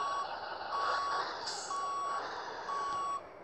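Truck reversing beeps from Grand Truck Simulator 2, a steady series of four evenly spaced high electronic tones over a low engine hum, clear and alone with no talk.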